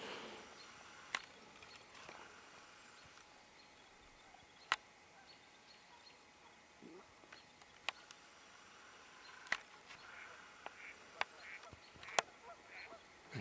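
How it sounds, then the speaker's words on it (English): Faint honking of geese with a few sharp calls standing out over a quiet outdoor backdrop in bushy terrain, with ducks also present at a distance. "Bird in the back of me yapping like crazy. You got the geese and the duck."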